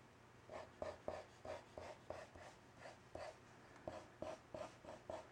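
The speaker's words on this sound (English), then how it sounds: "Draw the egg with a large and tall oval." A pencil scratches on paper while drawing a large, tall oval egg shape for a children's Easter art project, with repeated soft strokes in a steady, close rhythm and no talking.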